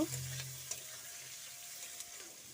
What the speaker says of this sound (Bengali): পেঁয়াজটা এখানে লাল লাল করে ভাজতে হবে